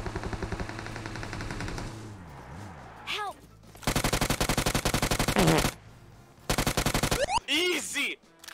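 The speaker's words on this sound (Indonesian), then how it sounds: "Ada suara tembakan sana." Gunfire in the mobile battle-royale game PUBG Mobile, loud rapid automatic bursts in several long volleys separated by short gaps, with other game effects and brief speech in between.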